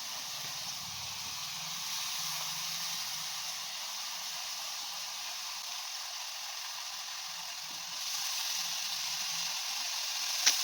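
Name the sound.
potatoes frying in a pan with wood mushrooms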